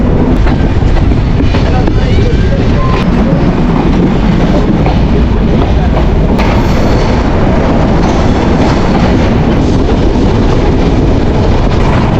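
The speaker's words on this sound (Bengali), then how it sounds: "ছয় নম্বর প্ল্যাটফর্মে ঢুকেছে এ হচ্ছে বনলতা এক্সপ্রেস ট্রেন" Loud, continuous rumble and rattle of the Banalata Express, a Bangladesh Railway non-stop Dhaka–Chapainawabganj train, at platform six, with dense mechanical noise throughout and faint clatter mixed in.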